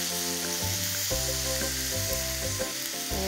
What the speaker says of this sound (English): That's what you want to hear, the sizzle.